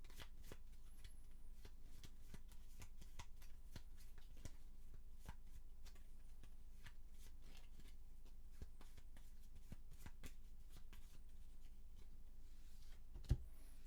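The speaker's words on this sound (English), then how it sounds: "we're going to shuffle this." Gloomhaven board game cards being shuffled by hand at close range, a rapid series of crisp riffling flicks and taps with a sharp click near the end, quiet room, no talk.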